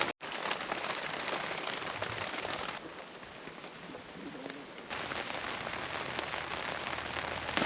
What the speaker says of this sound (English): it's going to rain all day